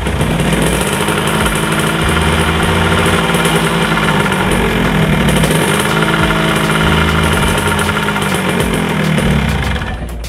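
A Yamaha RX King two-stroke motorcycle engine runs loud and close, idling roughly with light throttle blips that raise the pitch before settling back down.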